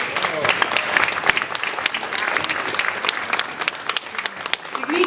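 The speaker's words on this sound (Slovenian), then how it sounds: "En aplavz." A festive crowd at a local Slovenian harvest celebration applauds the newly elected mayor and councillors: sustained, lively clapping from many hands with a murmur of voices underneath, holding steady throughout.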